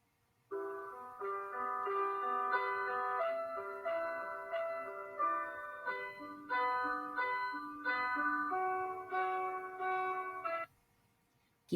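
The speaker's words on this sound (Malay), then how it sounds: "ini adalah bunyi muzik yang boleh menghiburkan" Bright, cheerful music plays for about ten seconds: a plinking, music-box-like melody with steady chiming notes at moderate volume, starting and stopping abruptly.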